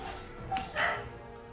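A neighbour's dog gives two short barks, faint and distant, over a quiet background.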